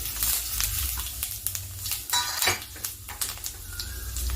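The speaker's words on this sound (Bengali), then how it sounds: "এবার আমি সোমবারের জন্য দিয়ে দিলাম তেজপাতা গোটা জিরে" Bay leaf and whole cumin hit hot oil with a sharp crackling sizzle, and a spoon clinks and scrapes against the pan several times, close and fairly loud.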